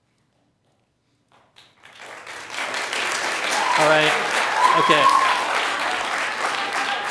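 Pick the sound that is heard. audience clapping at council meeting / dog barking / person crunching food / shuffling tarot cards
audience clapping at council meeting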